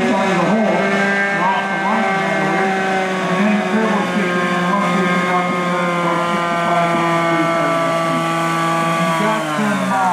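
A diesel big rig truck launches at a drag race while its turbo kicks in, a loud, sustained engine roar whose harmonic tone climbs steadily as it accelerates away, with no talking.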